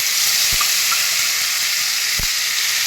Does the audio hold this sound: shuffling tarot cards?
no